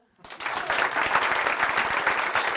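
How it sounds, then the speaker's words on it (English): A live audience breaks into a dense, steady round of applause at a talk, rising quickly from silence and holding loud and even with many overlapping claps. "Give yourselves a round of applause just for being here."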